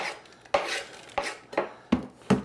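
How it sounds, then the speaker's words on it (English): The back of a knife scraped across a cutting board during prep for Chinese-style sweet and sour pork, five distinct rasping strokes, each with a sharp onset that fades away. "when you're scraping a cutting board, always use the back of the knife"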